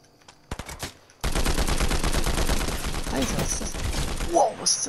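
Gunfire from a sprayed weapon in the video game Fortnite: a few isolated shots, then a sustained rapid automatic burst of evenly spaced cracks lasting several seconds, loud and close.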